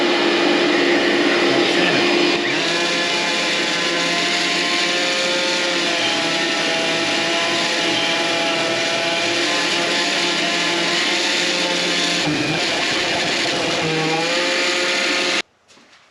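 A shop vacuum fitted with a HEPA filter runs loud and steady with a droning motor whine for about fifteen seconds, a brief pitch change near the end, then switches off abruptly.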